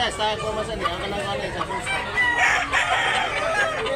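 Roosters crow amid a bustling gamefowl market in Tabunok, Talisay, Cebu, the calls overlapping with clucking birds and a dense murmur of crowd noise throughout.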